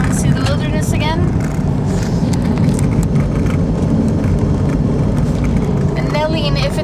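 Car driving along backroads, with a continuous steady engine and road rumble throughout and a woman chatting over it.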